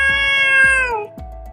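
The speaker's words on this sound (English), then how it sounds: "This is cute cat. Wow." A cat meows once, a drawn-out, bright tonal cry that falls in pitch near the end, close and loud, over a rhythmic low thumping in the background.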